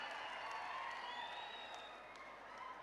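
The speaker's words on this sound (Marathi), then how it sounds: "सगळ्यांनी उभा राहून टाळ्या वाजवून सगळ्यांनी आभार माना।" A crowd at a political campaign rally applauds, a dense, steady wash of clapping with some cheering that holds for a few seconds.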